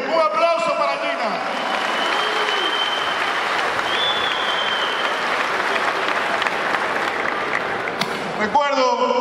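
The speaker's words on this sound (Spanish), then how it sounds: "Un aplauso para Gina" A crowd at a political event applauds after a woman named Gina is introduced, sustained clapping and cheering with whistles and shouts mixed in, then a voice speaks as it fades.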